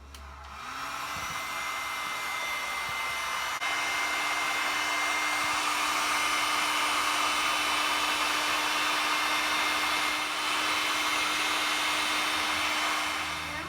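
A heat gun blowing hot air to shrink large shrink tubing over electrical tape on a sump pump repair, a constant loud whirring roar that starts up and holds steady throughout.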